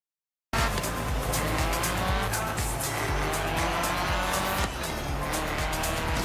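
Cars racing in a Forza Horizon game, engines roaring steadily at high revs with tires squealing and skidding, loud and continuous after a brief silence at the start.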